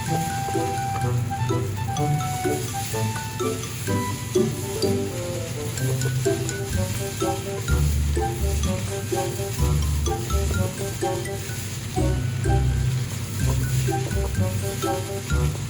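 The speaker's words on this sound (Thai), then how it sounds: "เราใช้ไฟแรงผัดไปสักพักหนึ่งนะคะ" Jungle fried rice is stir-fried over high heat, with a steady sizzle and scraping under clanks of the utensil against the pan. Someone talks over the cooking throughout.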